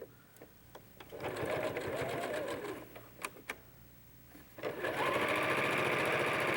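A sewing machine stitches a quilt seam for a fan-shaped Dresden Plate block, running in steady bursts with brief pauses and clicks between them, close and fairly loud.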